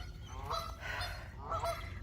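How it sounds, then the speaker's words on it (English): Canada geese honk along the Mississippi River in two loud, nearby bursts of repeated nasal calls over a low outdoor rumble. "But there's quite a few Canadian geese down here."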